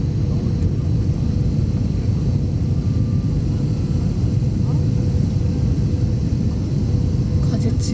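Cabin of an airliner on landing approach into Takamatsu airport in strong turbulent wind: a steady, loud low engine and airflow rumble fills the space without letup, with occasional faint rattles.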